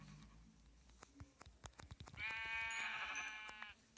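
A Minecraft sheep bleating in a video game, one long wavering bleat after a run of sharp clicks and taps, with no talk over it.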